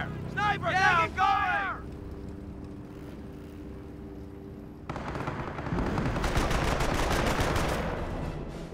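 Company of Heroes battle audio opens with a short burst of radio-style voice chatter and a low engine drone, then a dense, loud stretch of rapid machine-gun fire and crackling shots rolls on for several seconds.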